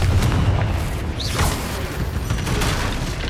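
A Confringo fire-blast spell in Hogwarts Legacy: a dense, loud rumbling roar with a brief rising whoosh in the middle, sustained with no clear break for its length.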